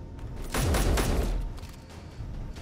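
A burst of rapid pistol fire rings out in a video game, several quick shots clustered together at moderate loudness, followed by a fading echo and softer trailing booms.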